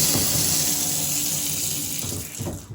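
Water runs steadily into newly installed unvented hot water cylinder plumbing, a continuous close rushing flow like a filling tap that eases slightly toward the end.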